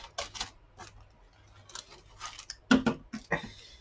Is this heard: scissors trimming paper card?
yes